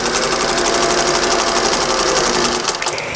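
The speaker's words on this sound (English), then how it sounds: "just run my row of stitching all the way down" A sewing machine stitches a seam on a dress in a fast, steady, loud whirring run that slows and stops near the end.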